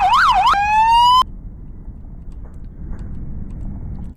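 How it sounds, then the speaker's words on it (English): A loud electronic police car siren in a video game wails, then switches to a steady tone and cuts off abruptly, leaving a quiet background hum. "Now you made your very own police car that has lights and sirens."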